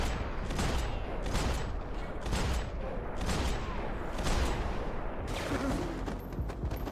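Gunfire rings out in Max Payne 3 as a rapid series of loud shots, some clustered in volleys, repeating across the stretch without talk over it.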